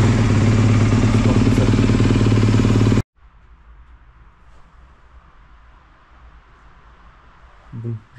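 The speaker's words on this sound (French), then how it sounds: "On n'oublie pas de chauffer la moto." A motorcycle engine idles loudly and steadily for about three seconds while warming up before an oil change, then cuts out, leaving only faint background noise.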